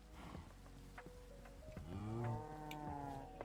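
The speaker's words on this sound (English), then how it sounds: "Oh, we got another baby cow." A baby cow mooing in the block-building survival game TerraFirmaCraft, one drawn-out, rising and falling bovine moo following some quieter animal rustles, heard faintly and alone without talk.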